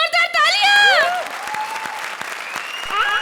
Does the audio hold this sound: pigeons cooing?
no